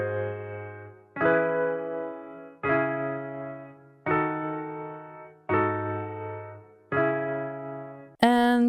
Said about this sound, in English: And then you have this other toy piano